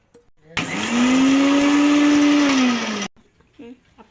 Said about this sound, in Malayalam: അപ്പോൾ ഞാനൊന്ന് ചതച്ചെടുക്കട്ടെ.